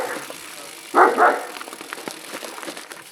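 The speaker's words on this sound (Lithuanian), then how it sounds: "Šįkart prirakino šunį." A chained dog gives two quick close barks in succession, loud against a quiet outdoor background with faint rustling afterward.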